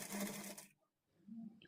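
A sewing machine runs in a short burst while stitching piping onto a blouse neckline, then stops briefly and starts again, quiet and close.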